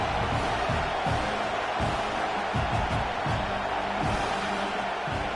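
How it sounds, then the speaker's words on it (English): A large stadium crowd at a Tennessee vs FAU football game roars and cheers continuously in the distance, a broad wash of noise with muffled voices rising and falling. "This crowd bringing the energy and noise early."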